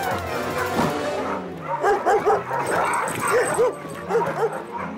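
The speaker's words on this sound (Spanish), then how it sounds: "Odie, perro malo" A cartoon dog from a Garfield episode barks in a rapid string of yippy woofs and whimpering yelps, close and loud, over a busy animated soundtrack with music.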